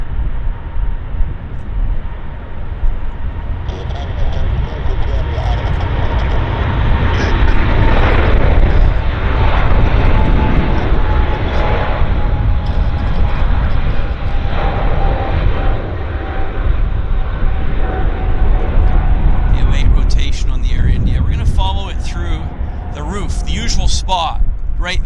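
An Air India airliner accelerates down the Vancouver runway on takeoff for Delhi, its engine roar building and sustained loudly, with crackling rumble and scattered sharp noises near the end.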